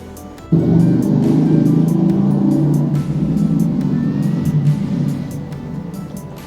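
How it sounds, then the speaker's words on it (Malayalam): A mixer grinder blends batter for Kerala indari appam, its motor starting abruptly and holding a loud, steady low whir with a slight dip in pitch midway. "അപ്പോൾ നമുക്കിതിലിട്ടൊന്ന് മിക്സിയിലിട്ടടിച്ചിട്ട് നമുക്ക് ഒഴിക്കാം"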